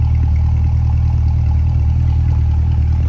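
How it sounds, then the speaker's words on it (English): A 2021 Corvette Stingray 2LT coupe's V8 exhaust at idle, a steady loud, deep low rumble with a faint mechanical clatter on top, holding even throughout with no talking. "listen to that exhaust at idle"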